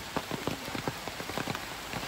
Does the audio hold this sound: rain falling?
yes